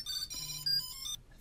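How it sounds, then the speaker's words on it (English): A small item tracker rings after being triggered from a phone app, giving a bright, repeating electronic chime-like melody, close and clear, that stops abruptly after about a second. "I just use the app to geotrack and make the tracker ring"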